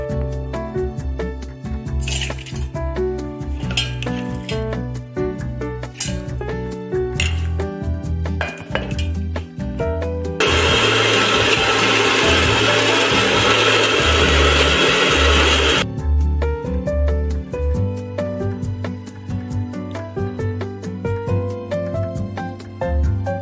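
Mixer grinder whirring loudly for several seconds as it grinds soaked rice and urad dal into a paste, its steady roar rising over background music and kitchen clinks.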